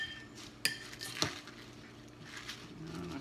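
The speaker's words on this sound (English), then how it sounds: "We mix our salad, that you have all the stuff visible." Mesclun salad is tossed in a bowl, soft rustling of leaves with a couple of sharp clinks of a utensil against the dish, quiet and close.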